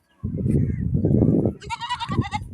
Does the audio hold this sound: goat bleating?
yes